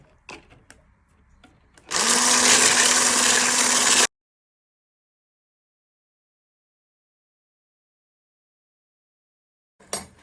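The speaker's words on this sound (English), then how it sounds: "you want to whisk this using a lucky whisk" Double cream is whisked for an Eton mess cake in one loud, even whirring burst of about two seconds, close by, followed by silence.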